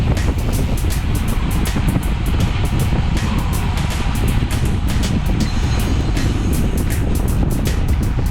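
A car passes on a road during a bicycle ride, its engine rush blending with heavy, constant wind roar on the microphone at close, loud level, with no speech.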